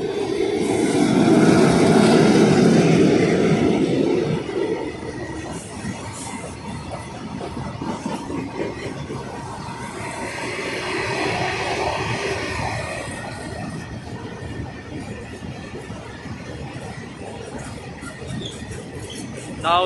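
A heavy Indian goods train about 2.5 km long rolls by nearby, a loud low rumble that swells at first, then settles into a steady grinding clatter of wagons passing.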